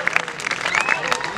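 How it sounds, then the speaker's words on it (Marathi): Applause from an audience at a state-level kabaddi tournament ceremony in Dapoli, a steady patter of many hands clapping with scattered louder claps throughout. "जरा सुपर हेड साठी टाळ्या वाजवू द्या"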